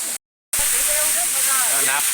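A jungle waterfall roars as a steady, broad rushing hiss after a brief cut, with a voice talking over the constant water noise.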